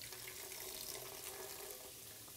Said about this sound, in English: And some hot water.